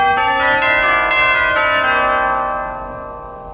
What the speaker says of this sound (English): And the outdoor chimes.